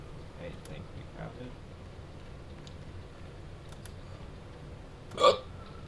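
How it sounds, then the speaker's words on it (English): One sharp, loud hiccup near the end cuts through quiet background noise and faint keyboard tapping while a video game is being played. "Oh my god, these hiccups."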